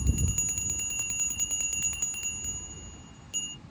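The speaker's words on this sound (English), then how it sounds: "I'm going to clear the energy with this bell" A small bell rung to clear energy, one clear struck tone ringing out close and slowly fading, with a quieter second strike near the end over a faint low rumble.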